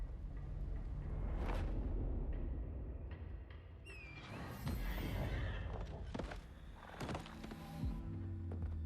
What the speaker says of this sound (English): horse riding in my Souls game?